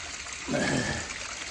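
Water gushes from a pipe that has just been cleared of leaves, a brief soft rush of flow that swells and then settles.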